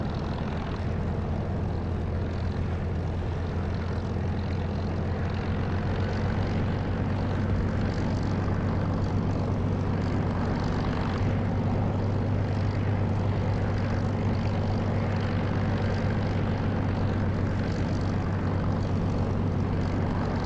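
A propeller aircraft engine drones steadily while taxiing in the DCS flight simulator game, a constant low hum with faint tonal overtones and no speech.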